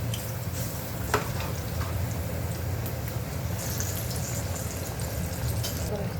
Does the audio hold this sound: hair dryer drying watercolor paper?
no